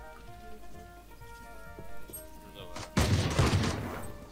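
A sudden burst of rapid gunfire erupts near the end of a video game match, loud and dense after a quieter stretch with faint background game sounds and brief talk.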